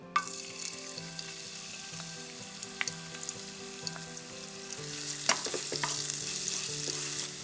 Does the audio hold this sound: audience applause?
no